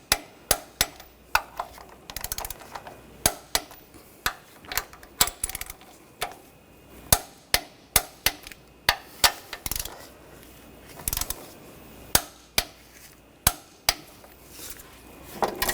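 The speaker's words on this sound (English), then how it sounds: "Now I'll torque these to 45 foot-pounds." Torque wrench clicking and ratcheting on engine mount bolts of a 2014-2020 Nissan Rogue 2.5L, sharp metallic clicks repeating in a steady rhythm, close and crisp over faint workshop background.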